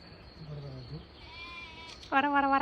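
On a mountain farm a sheep and a goat bleat, first a faint low call, then a loud, close, quavering bleat at the end. A person speaks in between.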